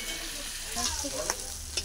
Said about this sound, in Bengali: এই যে চিংড়িগুলোকে ভালো করে এবার ভেজে নিচ্ছি।